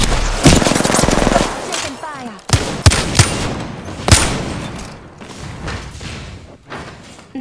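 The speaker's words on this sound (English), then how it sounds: "Taking fire." Gunfire in the video game Apex Legends: loud bursts of rapid automatic fire and single heavy shots with thumps and mechanical clacks, fading into quieter scattered activity; brief voice chatter is faintly present.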